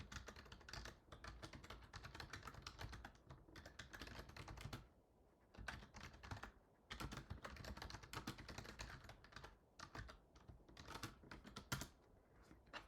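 Code typed on a computer keyboard in fast, dense bursts of key clicks, pausing briefly twice before the rapid clatter resumes, close and quiet.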